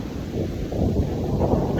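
Steady wind rushes and buffets the microphone in a continuous low roar at sundown, with no clear voices.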